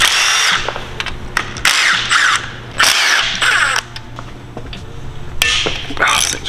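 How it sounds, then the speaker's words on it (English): Power tool unbolting parts from a K24 engine, firing in short, loud bursts of whirring and rattling with pauses between them, close up in a workshop. "So let's get this thing unbolted."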